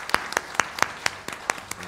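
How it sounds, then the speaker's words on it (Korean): Congregation clapping during a Sunday church service celebrating a wedding, heard as a short burst of scattered, uneven handclaps with a few sharper claps standing out, moderately close and without talk. "이제 서로 박수로 서로 축하하고"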